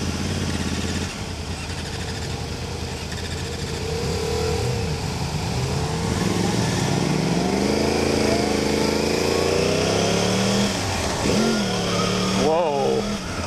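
A liter-class motorcycle engine drones loudly and steadily, its pitch climbing as the throttle is opened, with a rider's excited voice heard over it.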